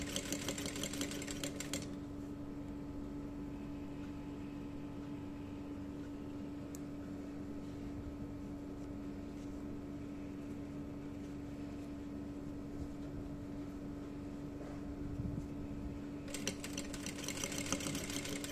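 A steady, fairly quiet whirring drone from a sewing machine stitching fabric for a garment, running continuously throughout with a faint higher hum and no talking.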